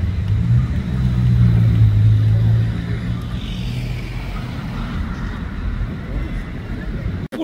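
Bugatti Chiron supercar driving past on a Monaco street, a loud low engine rumble that swells and then fades into traffic noise, with people talking over it.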